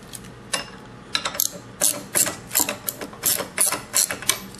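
Ratchet wrench threading bolts in to separate a Hydracell pump from its motor, clicking in quick repeated back-and-forth strokes, close and clear with no talking.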